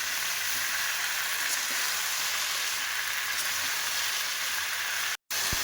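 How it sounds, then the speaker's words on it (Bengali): Vegetables with freshly picked red amaranth greens fry in a pan with a loud, steady hissing sizzle that fills the whole stretch, broken by one brief cut near the end. "সবজিটা ভাজা হয়ে গেছে, ওপর থেকে আবার শাকটা দিয়ে দিলাম।"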